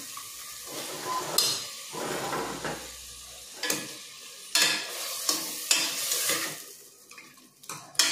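Mutton pieces sautéed and stirred in a pan, with a spoon scraping in irregular strokes over a soft sizzle and several sharper clanks against the metal, fairly quiet and close.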